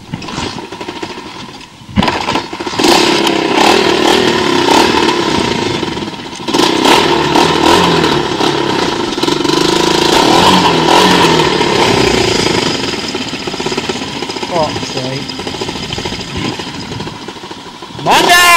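A quad bike engine starts and revs close by, its loud rattling putter rising and falling over a long run, with someone talking over the noise now and then.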